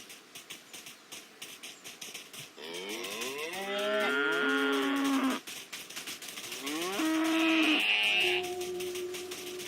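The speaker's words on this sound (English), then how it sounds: "Finally, the Friesland cow." A Friesland (Holstein) cow, a part-Dutch breed, gives two long, loud, drawn-out moos, the second rising higher near its end, with no voices.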